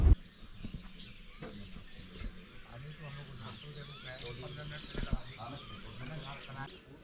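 Birds chirp and call in a cloudy Jim Corbett forest during a safari, with dogs barking nearby and a person talking over the birdsong.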